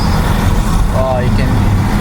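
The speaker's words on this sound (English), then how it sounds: "a lot of cars, a lot of motorcycles." Morning city traffic in Ampang heard through an open window, a steady roadway rumble of passing cars and motorcycles with a brief horn-like tone midway.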